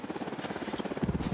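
A helicopter's rotor chops in rapid pulses during Ghost Recon Wildlands gameplay, a brief steady throb that grows slightly louder at the end.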